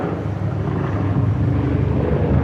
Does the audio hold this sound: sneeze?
no